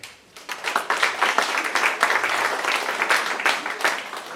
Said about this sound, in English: If you got any grandkids, clap it up in here.